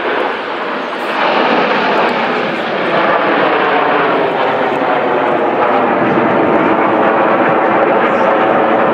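Red Arrows jet aircraft performing a display at an airshow in Malta, a loud, continuous broadband engine roar that holds steady throughout with a slight swell early on.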